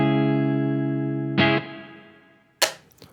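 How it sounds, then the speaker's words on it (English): A sustained, heavily distorted electric guitar chord on the neck pickup at full guitar volume through a Line 6 POD Go amp simulator rings out and slowly decays, followed by a brief muted strum and a sharp pick scrape near the end. "So the amp itself on the neck pickup with my guitar at full volume sounds like this."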